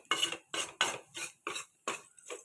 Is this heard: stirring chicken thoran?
yes